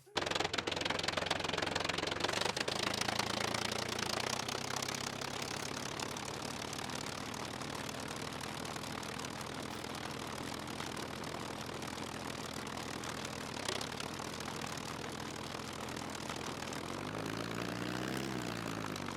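Propeller airplane engine in the survival game Scum, a loud steady drone with a rising, shifting pitch near the end, with someone talking over it.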